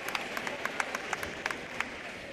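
Crowd at a high school wrestling match between Mt. Juliet and Lebanon, with scattered sharp claps and cheers rising over a steady murmur of the gym audience, fairly close and moderately loud.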